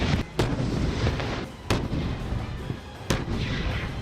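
A tank fires shells in a military firepower display, three heavy booming blasts spaced about 1.3 seconds apart over a loud rumbling background, no voices.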